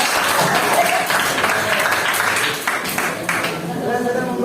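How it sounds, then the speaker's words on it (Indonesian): A classroom group gets a round of applause, a busy spread of claps from many hands mixed with overlapping voices. "Beri tepuk tangan dulu untuk kelompok."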